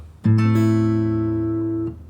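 A guitar chord is picked string by string with the fingers. The notes ring out in a quick sequence and then sustain clearly on their own before fading.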